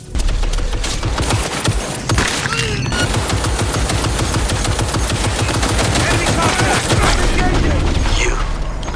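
Heavy machine gun fire in the video game Cyberpunk 2077 hammers out in a loud, continuous rapid stream of shots with booming impacts, sustained almost without pause throughout.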